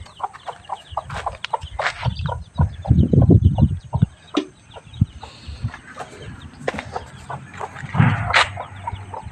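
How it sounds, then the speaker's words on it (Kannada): Chickens on a village homestead cluck and squawk close by in uneven bursts, with louder flurries of calls and scratchy movement between quieter moments. "ಕೋಳಿಗಳು ನೋಡ್ತಾ ಇದ್ದೀನಿ ಇಲ್ಲೇ,"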